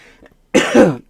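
A single harsh, chesty cough from a broadcaster with congested lungs, loud and close, following a brief soft breath.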